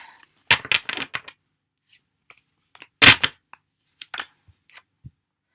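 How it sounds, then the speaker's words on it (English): A card drawn from a Favole oracle deck gives crisp papery rustles and snaps: a busy cluster near the start, one sharp flick midway, then scattered faint taps in a quiet room with no talking. "Let's grab a Favole card."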